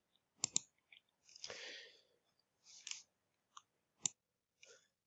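Computer mouse clicks while working in Google Classroom: a handful of sharp, isolated clicks spaced irregularly, close and quiet, with faint shuffling noises between them and no talking.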